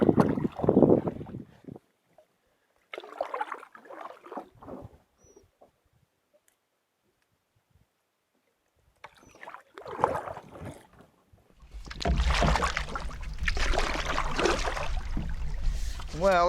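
A canoe is paddled across a quiet back country lake, with soft intermittent paddle strokes and water splashes, gaps of near silence, then steadier water and wind noise; a voice speaks briefly.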